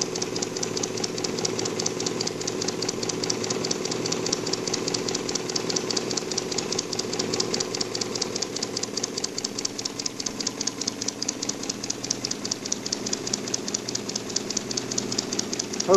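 A small engine, fitted with a silencer, chugs steadily with a rapid, even exhaust beat, running continuously at constant speed without pause.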